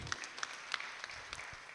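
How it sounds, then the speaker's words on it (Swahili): Applause from an audience at a SACCO annual general meeting in Nairobi, a light scattering of claps that starts and stops irregularly, faint and with no voices. "Helen, tumpigie makofi."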